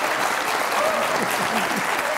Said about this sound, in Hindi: अली आपने बड़ी दिल खोल के ताली बजाई इस बात पे